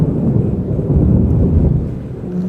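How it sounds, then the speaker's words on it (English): A loud, deep rumble of thunder rolls continuously through a storm, heavy and close, with a low roaring texture and no voices. "That's real big thunder."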